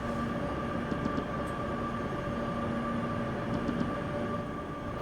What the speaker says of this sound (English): Even the sound of the train for an electric is just really soothing.